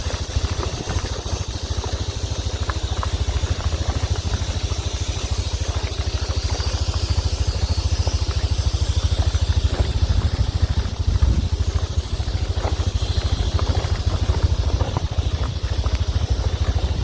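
A motorcycle engine idles steadily during an engine check, a loud, close, low rumbling putter with a fast even pulse that holds unchanged throughout.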